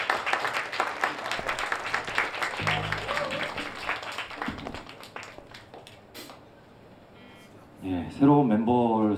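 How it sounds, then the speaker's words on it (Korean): A concert audience claps for a departing band member, a scattered burst of applause that thins out over several seconds, followed by someone speaking near the microphone. "지금까지 수고했던 성현 군에게도 박수 한번 부탁드립니다"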